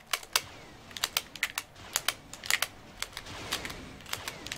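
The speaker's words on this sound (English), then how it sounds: "the trigger to shoot is the loudest button in the history of man" A GameCube controller's trigger button clicks loudly while Star Wars: Jedi Outcast is played, producing sharp, close plastic clicks in irregular bursts, some rapid and some spaced apart, with no voices.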